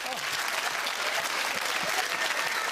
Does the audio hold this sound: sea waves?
no